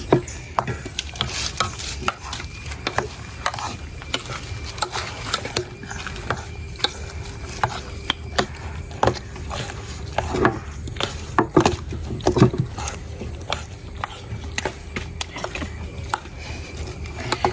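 Masala being stirred and mixed by hand for homemade shawarma, a steady run of soft scraping and stirring with frequent sharp knocks of a utensil against the bowl, close up, with no talking.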